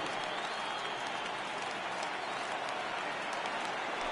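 Crowd at a video-game baseball game, 1942 St. Louis Cardinals against 2007 Colorado Rockies, keeps up steady, even applause and crowd noise that fills the whole stretch.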